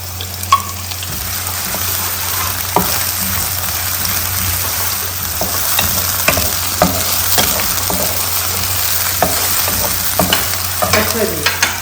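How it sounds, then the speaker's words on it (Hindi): Onions fry in hot oil until golden, a constant loud crackling sizzle with scattered pops and occasional stirring clicks throughout. "प्याज को हम करेंगे हल्का सा गोल्डन।"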